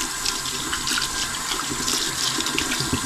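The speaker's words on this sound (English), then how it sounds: "Give them a quick rinse." Wet foam tire inserts for an RC car are rinsed under running water, a steady close gush with bursts of splashing as the foam is squeezed and turned.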